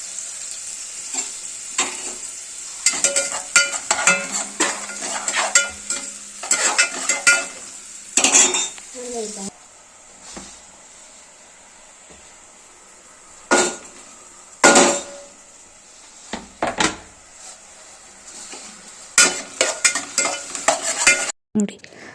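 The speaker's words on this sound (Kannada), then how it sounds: "ಎಣ್ಣೆ ಕಾಯ್ದೋಯ್ತು. ಈರುಳ್ಳಿ ಹಾಕ್ಬಿಟ್ಟು ಸ್ವಲ್ಪ ಅಲ್ಲಾಡಿಸ್ರಿ ಅದನ್ನ" Onion fries in hot oil in a pan while a ladle stirs it, for an aloo matar gravy. Sizzling carries under repeated loud metallic scrapes and clanks of the ladle against the pan, with pauses between bursts of stirring.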